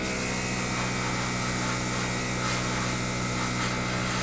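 An airbrush sprays light coats of paint onto a Kotare Messerschmitt Bf 109K-4 scale model, a steady hiss holding at an even level throughout with no voices.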